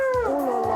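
Sled dogs at a mountain kennel in Haute-Savoie let out a sustained, wavering howl, several voices overlapping in a close, loud chorus with no talking.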